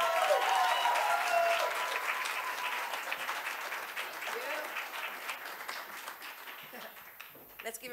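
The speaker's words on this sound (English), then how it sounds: "Let's give a round of applause to the district attorney" An audience at a Women's History Month celebration gives a steady round of applause, sustained clapping from many hands that gradually tapers off.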